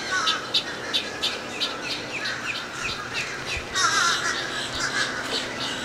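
Seabirds call repeatedly at a seabird sanctuary on the seashore in Indian Shores, with crow-like caws and sharp squawks coming in short bursts, fairly close, over a soft outdoor background.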